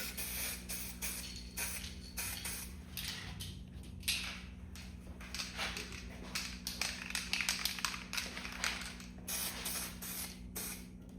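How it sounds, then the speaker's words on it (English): Spray can dusting guide coat onto a car body panel, short hissing bursts repeated in an uneven rhythm, close and fairly quiet over a low steady hum. "I'm just gonna dust a little bit on these and use it for guide coat"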